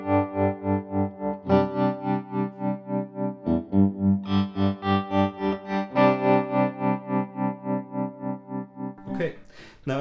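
Electric guitar chords pass through an Electro-Harmonix Super Pulsar tremolo pedal in sine wave mode, pulsing in smooth, regular volume swells. Notes change every second or two, then a few distorted strums close it out.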